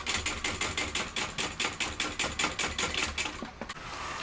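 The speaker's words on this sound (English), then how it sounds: "I'm going to come along and sew the bottom." A sewing machine stitches across the bottom of a canvas tote in a fast, even run of mechanical clacks that slows and stops near the end.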